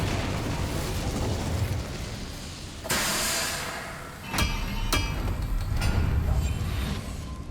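Fire spell blasts in the video game Hogwarts Legacy: a crackling whoosh with two sharp bursts and a rumbling roar, heard over continuous game background noise.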